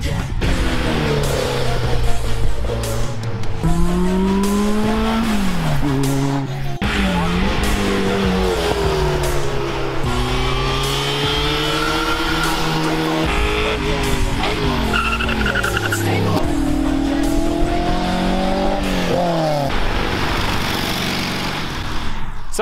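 Race cars at an autoslalom event in Wangen run close by, engines rising and falling through repeated gear changes with brief tire squeals, loud and continuous throughout with music underneath.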